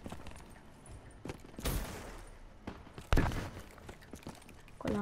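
Shotgun blasts from the video game Call of Duty Black Ops 3, a few sharp loud shots at irregular intervals amid game noise and light footsteps.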